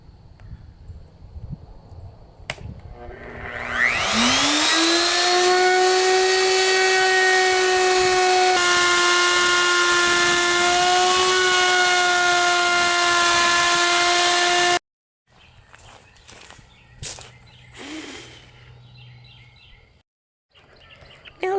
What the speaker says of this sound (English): when you're using a router, you have to go from right to left